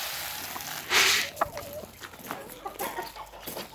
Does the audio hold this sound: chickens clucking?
yes